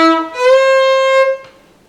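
An old-time fiddle note slides up into a C, a bowed tone bending upward and then holding steady for about a second before a soft final stroke and decay.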